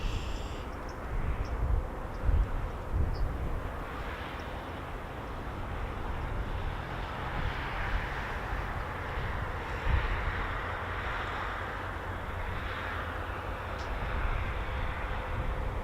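KC-135 tanker aircraft on recovery at RAF Mildenhall, a steady broad jet roar held at a distance for the whole stretch, with no voices.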